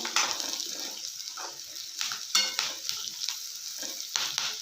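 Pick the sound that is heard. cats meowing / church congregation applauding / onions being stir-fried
onions being stir-fried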